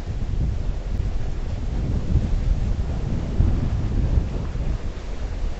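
Typhoon Hato storm at the Star Ferry Pier in Hong Kong: a loud, continuous roar of wind and heavy rain, buffeting the microphone with steady gusting surges throughout.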